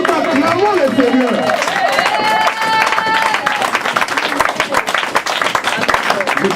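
A church congregation claps and cheers loudly, with raised voices and shouts riding over continuous close applause.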